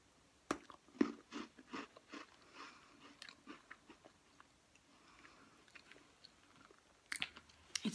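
Close, quiet chewing and biting of cookies, with crisp crunchy bites and irregular mouth clicks and squishy mastication spread across several seconds, then a fresh cluster of crunches at the end.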